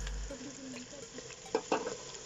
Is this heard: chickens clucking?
no